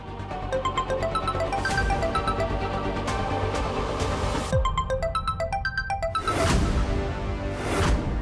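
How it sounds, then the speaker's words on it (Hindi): A mobile phone ringtone plays a bright, repeating electronic melody that loops steadily and fairly loudly in a quiet room, with no voices over it. "ये तो कुंवर साहब के फोन की आवाज है।"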